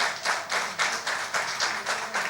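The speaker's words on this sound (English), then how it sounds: "So big round of applause for Mr." Audience applause at the closing session of an event, a steady round of clapping from a small crowd with a slightly pulsing rhythm, fairly close and continuous throughout.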